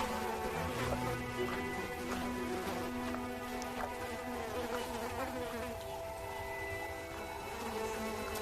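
Flies buzz close around a pride of lions resting in intense heat. Their high, whining drones rise and fade as individual insects pass near, over a continuous insect hum.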